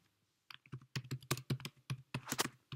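Keys on a computer keyboard are typed while writing Swift code, a quiet, close series of uneven clicks after a short pause, heard alone.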